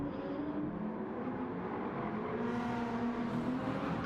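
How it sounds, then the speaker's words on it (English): GT3 race cars at the start of a race on the Nürburgring Nordschleife, a dense, steady drone of several engines revving and accelerating heard from some distance, with no voices. "I can hear the cars almost spinning around"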